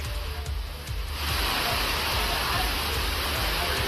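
Steady rain falls in a rural farming area of Tamil Nadu, a dense continuous hiss that swells louder after the first second, with no voices.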